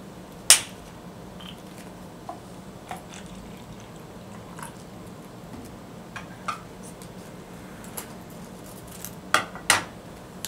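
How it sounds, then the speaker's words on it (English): Substrate powder stirred into water in a cup, giving sparse light clinks of a utensil against the cup over a steady low background hiss, with no talking. "Pour 4 ounces of water into the cup, add the substrate to the water, mix thoroughly, and set aside."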